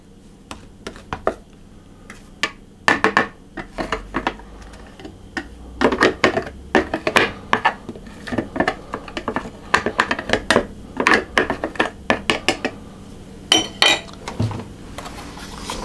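Almond paste and flour being mixed and scraped in a bowl for Dutch almond cakes: irregular bursts of close, sharp clinking and scraping of a utensil against the bowl, quiet pauses between clusters, with brief talk.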